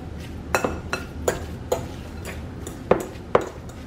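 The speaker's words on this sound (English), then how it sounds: "Get this all nicely mixed." A utensil mixes salmon patty mixture in a bowl, striking the sides in sharp, irregular clinks a few times per second, close and clear with no talking.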